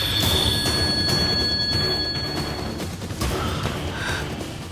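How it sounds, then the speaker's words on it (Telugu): A telephone rings with an incoming call, a sustained electronic tone that stops partway through, set against a busy background in a film scene. "మాయా ఫోన్ చేస్తుంది పార్ట్నర్"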